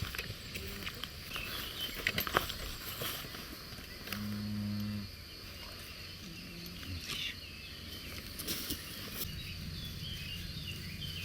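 A small farm cow moos once in a low, drawn-out call on a rural farm, heard at a moderate distance over faint outdoor background noise, with no talking.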